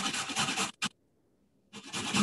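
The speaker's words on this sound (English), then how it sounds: "You always want to grate carrots fresh." A freshly washed and peeled carrot is rubbed against a grater in close, loud rasping strokes, then a short scrape, a pause of near silence, and more steady grating.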